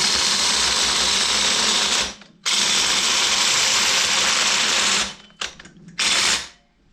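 A drill whines at full speed as a Milwaukee 1 3/4 inch hole saw grinds steadily through material, stopping briefly twice before spinning up again and winding down.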